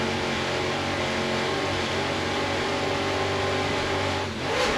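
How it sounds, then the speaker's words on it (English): Twin 800-horsepower Mercury inboard engines on a 40-foot Fountain racing boat roar steadily at a race start, a dense continuous engine drone that swells slightly near the end. "Let's listen to those Mercury engines as they rev up and start the race."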